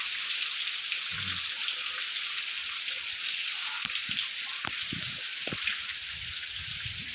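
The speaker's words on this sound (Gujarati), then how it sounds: "જોઈ લ્યો મિત્રો વરસાદ ચાલુ છે" Steady hiss of rain falling on surfaces, with scattered louder drops and faint low knocks underneath.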